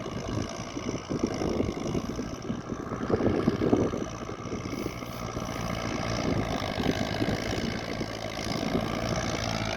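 A small Kubota L5018 tractor engine runs steadily at a low rumble throughout, close by, with a slightly uneven chugging texture and no talking.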